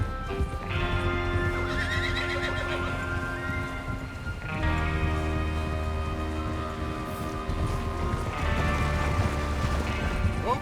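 Horses whinny and neigh over steady clip-clopping hooves in Red Dead Redemption 2, a western video game, with layered game music and ambience continuing throughout and no voices.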